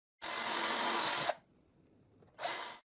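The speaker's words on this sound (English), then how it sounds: "And I drill guide holes in the nails holes." A drill press boring guide holes into the nail holes of a wooden board for a da Vinci bridge, running loud and steady for about a second, stopping, then starting again briefly, close up.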